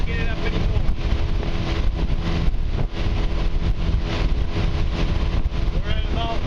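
Outboard motor on a boat running at about 5,000 RPM at full trim, a steady loud roar with wind buffeting the microphone throughout, and a voice briefly audible over the engine.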